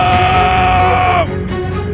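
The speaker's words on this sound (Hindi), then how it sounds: "अंकल की चीख निकल गई" Man screaming in pain after being punched in a cartoon, a loud strained cry held for over a second, then breaking into shorter gasping groans.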